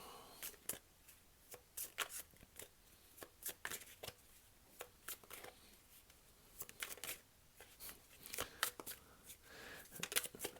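Tarot cards shuffled and drawn by hand, a quiet close series of crisp riffling snaps and slaps in irregular clusters, no talking over it.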